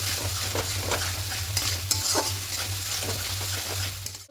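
Peas and potatoes for ghugni sautéed in a pan with their boiling water, giving a loud, continuous sizzle broken by scraping stirs, over a steady low hum, with no talking.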